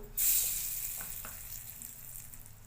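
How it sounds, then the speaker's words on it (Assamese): Soybean chunks with salt and turmeric drop into hot oil and erupt into a sharp, loud sizzle that slowly eases into a steady crackle, with a couple of soft utensil taps. "তেল গৰম হৈছে অলপ নিমখ হালধি দি সয়াবিন মই ভাজি লম"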